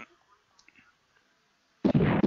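Explosions in the Mighty Morphin Power Rangers Fighting Edition fighting game, a sudden loud booming burst arriving after quiet scattered clicks and faint game sounds, sustained and close.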